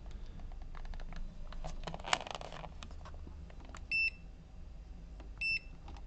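A multimeter set to continuity (beep) mode is used to test the LED circuit board of a LISTO 32HD TV, giving two short, clear beeps a second or so apart amid faint handling clicks and quiet background.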